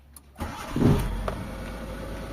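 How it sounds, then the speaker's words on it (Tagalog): A Mitsubishi Lancer with low power starts up, its engine catching and settling into a steady idle that rises slightly, heard close and alone. "pumino yung andar mga boss, tumaas yung idle natin"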